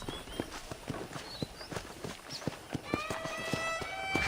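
Hooves clip-clop in a steady trotting rhythm as a horse is ridden in Red Dead on PC, with soft game ambience and a rising tonal sound near the end.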